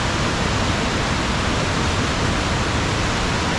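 Tvinde waterfall in Norway roars as a steady, loud, dense rush of falling water, continuous and unbroken throughout with no voices.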